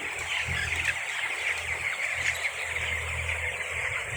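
A large flock of chickens on a farm makes a dense, continuous chorus of clucking and chirping, steady throughout under a low rumble, with no voices.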